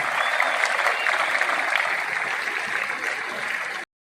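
An audience at an Iqbal Day school gathering breaks into sustained, dense applause for an arriving speaker, loud and close, holding steady for nearly four seconds before cutting off abruptly.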